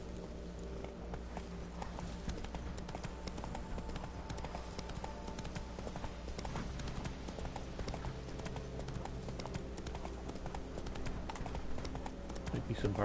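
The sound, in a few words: horse Roach galloping in video game The Witcher 3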